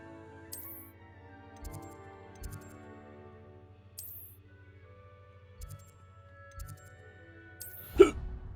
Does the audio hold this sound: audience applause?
no